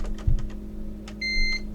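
A single sustained multimeter continuity beep, short and clear, following a few soft clicks, close up and fairly loud, while testing a PS5 with no power.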